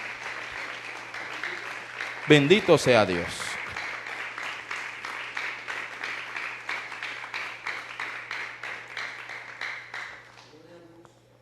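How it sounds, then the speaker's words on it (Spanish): A church congregation breaks into applause during a sermon, steady rhythmic clapping that swells after a spoken exclamation, carries on evenly for several seconds, then thins out and fades near the end. "Denle un aplauso al Señor"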